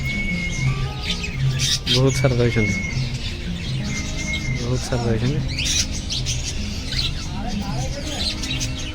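Small birds at Mahatma Gandhi zoological park chirp and squawk in quick repeated bursts, fairly close, under steady background chatter and a voice talking throughout.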